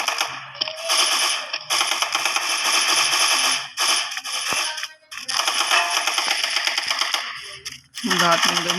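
Gatling gun fire in a shooter video game: long, dense bursts of rapid metallic gunfire, loud and close, broken by short gaps, with faint talk underneath.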